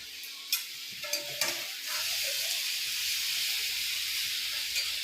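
Onion tempering sizzling in a hot pan gives a steady, close frying hiss that runs almost throughout, with a few clinks of a utensil near the start.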